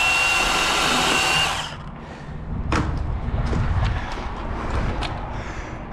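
A chainsaw cutting into wood roars loudly for over a second, then cuts out, leaving a few sharp knocks and thuds of wood and handling.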